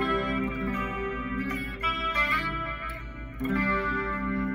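A Line 6 Pod Go electric guitar tone with reverb rings out in sustained chords and picked notes, with lingering ambient tails between strums.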